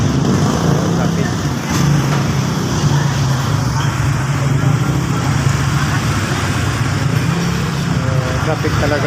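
Dense road traffic rumbles continuously through a town fiesta in Tanjay City, a loud steady wash of engines and vehicle noise with voices mixed in.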